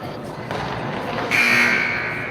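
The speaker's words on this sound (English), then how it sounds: "An unintentional buzzer." An arena buzzer sounds by accident during a youth girls' 10U hockey game, a steady loud tone starting partway through and held over crowd noise and rink chatter.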